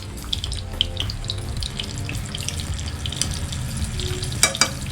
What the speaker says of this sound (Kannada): ಖಾರದ ಪುಡಿ, ಉಪ್ಪು ಎಲ್ಲ ಹಾಕಿ ನಾವು ಇದನ್ನು ಫ್ರೈ ಮಾಡ್ಕೊಳ್ಳೋಣ